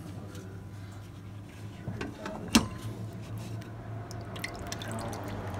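FrogLube cleaning liquid drains out of a suppressor's baffles as a soft, steady trickle with a faint drip or light knock partway through, close by and with no talking.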